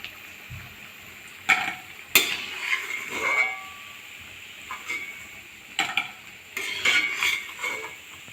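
Fish chops frying in a pan while being flipped, a soft steady sizzle with several bursts of metal spatula scraping and clinking as the chops are turned, close and without speech.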